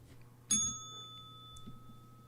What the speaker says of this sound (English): Where is my doorbell?